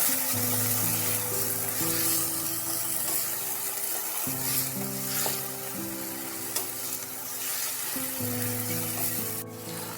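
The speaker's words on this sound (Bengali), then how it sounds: "টমেটোগুলো দিয়ে ভালোভাবে নাড়িয়ে নিতে হবে।" Chopped tomatoes stirred while frying in a pan make a continuous soft sizzle with occasional scraping, set under steady background music.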